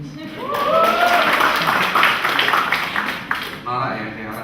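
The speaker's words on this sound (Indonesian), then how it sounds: "Tepuk tangan dulu, please." An audience at a campus event applauds, a dense patter of clapping spread through the room, mixed with cheering voices and chatter, moderately loud and lasting a few seconds.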